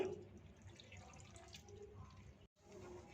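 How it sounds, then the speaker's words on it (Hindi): Water pours into a thick semolina and macaroni pakora batter in a home kitchen, a steady, fairly quiet liquid stream that runs almost three seconds, cuts out briefly, then resumes. "इसके साथ ही आधा कप मज़ीद पानी शामिल करेंगे।"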